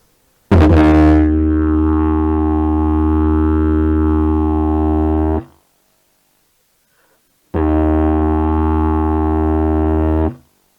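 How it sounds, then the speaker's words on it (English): A sustained drone on an instrument, rich in steady harmonics, holds loudly for about five seconds, stops for two seconds of silence, then sounds again for about three seconds. "So a drone. And a drone might sound like this."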